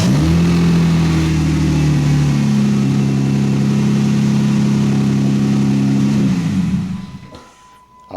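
Jeep Wrangler engine cranking over and catching, then running loud with a steady rev held for several seconds before cutting off abruptly, leaving near silence at the end.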